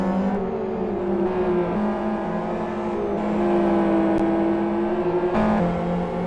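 XRR race car engine at full power down the straight in a SuperGT race at South City, a loud sustained drone with steady harmonic pitch, slight rises and dips, no voices.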